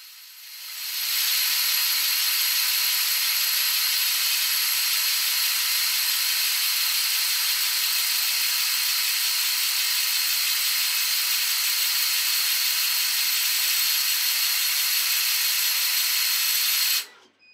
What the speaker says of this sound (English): Okay, first I'm engraving the word with air assist turned on.